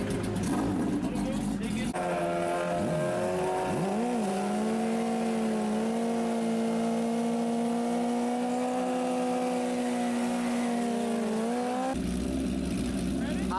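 Drag racing cars roar past at full throttle, a loud sustained engine drone with a rising then falling pitch through the middle, bracketed by crowd noise and voices at the start and end.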